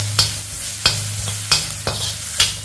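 Spices, curry leaves and asafoetida frying in a pan, loud close sizzle with five sharp rhythmic stirring scrapes spaced about half a second apart, a low hum underneath and no talking.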